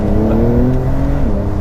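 2019 Porsche 992 911 Carrera 4S with its turbocharged engine pulling hard under full throttle, a loud, steady rising drone heard from inside the car, alone without talk.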